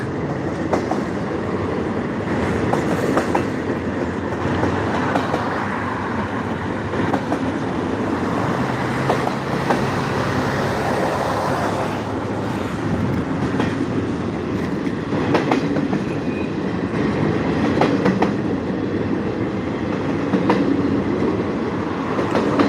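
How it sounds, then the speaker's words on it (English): A freight train rolls past steadily, its wagons producing a continuous loud rumble with rhythmic clickety-clack of wheels over rail joints and occasional metallic squeaks, heard close and alone for the whole stretch. "This train here don't have a lot of graffiti on it."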